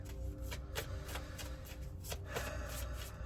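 Card decks for a reading are shuffled in a steady rustle of quick riffs, quiet and close over a low background hum.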